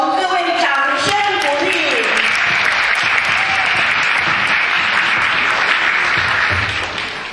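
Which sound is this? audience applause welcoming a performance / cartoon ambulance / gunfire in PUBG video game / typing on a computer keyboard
audience applause welcoming a performance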